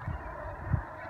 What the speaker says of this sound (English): a load of noisy, I think they're probably Canada geese